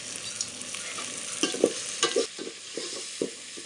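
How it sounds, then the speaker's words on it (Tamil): Chopped tomatoes with rock salt sautéing in a hot pan for a goat head curry, a steady soft sizzle broken by several scraping stirs of a spoon, close up, with no talking. "உப்பு கல் போட்டு இப்போ வதங்கிக்கிட்டு இருக்குது."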